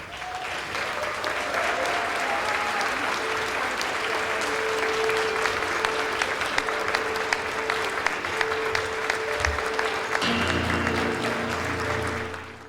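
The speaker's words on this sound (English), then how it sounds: "let's give a round of applause" Sustained applause from an award ceremony audience, dense steady clapping that carries on for several seconds before thinning out toward the end.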